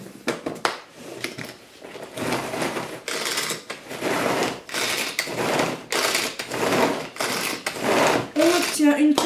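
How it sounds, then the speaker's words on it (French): A kitchen blender mixes the stuffing for summer stuffed tomatoes in a series of loud, close pulsing bursts with brief gaps between them. "il suffit de mixer le tout"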